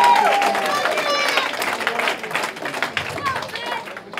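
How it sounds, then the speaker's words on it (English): Crowd at a youth boxing cup final clapping for both boxers, a scattered round of applause mixed with crowd noise, with a voice over a PA carrying across the hall and the clapping gradually thinning. "can I ask you to give both boxers a big round of applause?"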